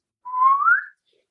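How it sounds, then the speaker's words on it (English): A swanee whistle gives one clear, close tone that slides upward over about three quarters of a second and then stops, heard alone against silence. "we thought we'd go with a swanny whistle."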